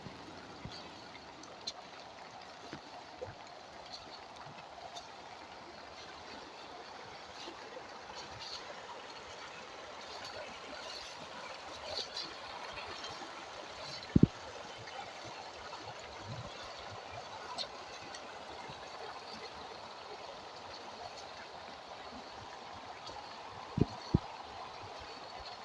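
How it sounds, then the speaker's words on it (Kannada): Rainwater flows and trickles all around after three days of steady rain at a home in Malnad, a faint, continuous wash of water with a few sharp knocks scattered through it and no talk. "ಸತತವಾಗಿ ಮಳೆ ಸುರಿತಾ ಇರೋದರಿಂದ ಎಲ್ಲೆಲ್ಲೋ ನೀರು."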